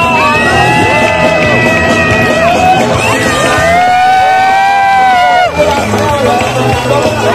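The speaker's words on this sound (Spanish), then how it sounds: "Nomás donde la gente aplaude y grita" A street crowd around a clown show in the historic centre's zócalo in Oaxaca shouts and whoops loudly, with sustained rising and falling yells and cheers layered over general crowd noise close by.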